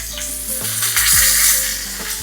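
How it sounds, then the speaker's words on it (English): Butter sizzles loudly in a hot pan beside a ribeye steak, a close continuous hiss and crackle that swells midway, with a low hum underneath and no speech. "I'm gonna go ahead and add me some butter to this pan"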